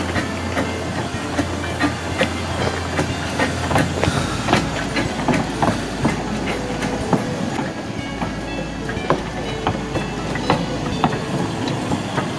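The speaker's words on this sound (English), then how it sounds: "This is the picnic train." Heritage picnic train rolling along steadily with continuous rail rumble, rhythmic clickety-clack of wheels over joints and a faint hiss, fairly close and with no voices.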